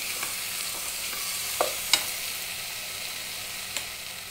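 Fenugreek leaves and moong dal sizzle gently in hot oil while being stirred, a low continuous frying hiss broken by a couple of brief utensil clicks, close and quiet.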